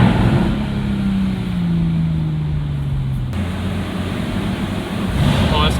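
Aston Martin car pulling hard under acceleration: a steady engine drone with a tone sliding gradually lower, then an abrupt shift near the midpoint, all wrapped in constant rushing wind and road noise.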